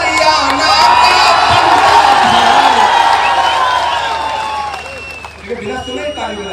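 A large crowd at an outdoor political rally roars and cheers loudly, with scattered shouts and some applause. The din holds steady, then fades briefly near the end before picking up again.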